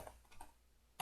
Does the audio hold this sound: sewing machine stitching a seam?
no